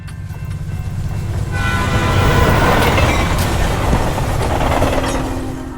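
Train passing sound effect for a stage play, a broad rumbling roar that swells from about one and a half seconds, stays loud and steady with clattering texture, then eases slightly toward the end, no voices.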